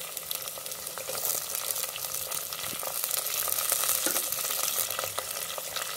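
Garlic and sliced onions sauté in hot oil in a pan for fish curry, a continuous close sizzling hiss with frequent small crackles and stirring scrapes, moderately loud with no talking.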